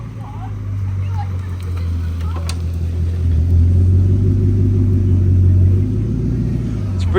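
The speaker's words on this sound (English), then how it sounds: "And the red Chiron Pro Sport from Car Week, the one that was driving with the yellow one." Red Bugatti Chiron Pur Sport driving, a deep, continuous engine rumble that swells louder midway and stays close and steady.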